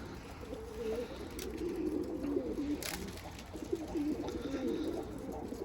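Tumbler pigeons on a balcony coo in low, repeated warbling phrases over a constant faint hum, fairly close, with no voices.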